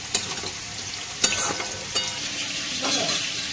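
Potatoes for chicken curry frying in a pan, a close steady sizzle with a few sharp scraping stirs of a utensil.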